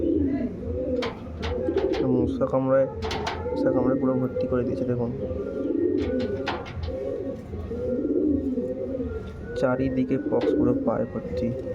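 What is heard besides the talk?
pigeon cooing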